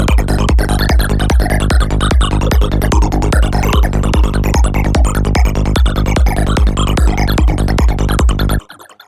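Glassy Virus-style psy lead synthesized in Vital, bright and dense with rapid rhythmic note pulses over a pounding low kick, loud and continuous before cutting off abruptly near the end.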